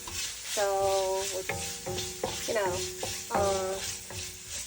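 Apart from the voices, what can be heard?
pork fat frying and being stirred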